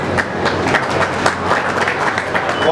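An audience at a Shri Pipa Jayanti closing ceremony in Jodhpur claps steadily, a dense patter of many hands over a faint background hum.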